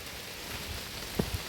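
Rain falls steadily on an Appalachian Trail hike in Maryland, a soft continuous hiss of drops with a couple of brief closer taps, no talking.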